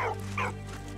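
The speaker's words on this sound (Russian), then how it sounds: "Собака." A dog in the World War I video game Valiant Hearts gives two quick, moderately loud barks over a steady low hum of game background sound.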